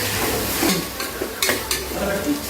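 Gongura leaves and tomato frying in a pan as they are stirred, with a steady close sizzle and intermittent scrapes and clinks of a utensil against the metal.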